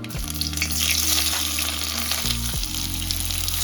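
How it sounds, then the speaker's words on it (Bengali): Chopped onions hitting hot oil in a wok, a loud, continuous close sizzle with a brief stir partway through. "তো বন্ধুরা, তেলটা গরম হয়ে গেছে, তো পেঁয়াজ কুচিটা দিয়ে দিচ্ছি।"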